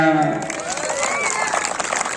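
An outdoor crowd claps and cheers at a traditional wrestling bout in Sirsi, a dense burst of applause that swells under a commentator's voice at the start.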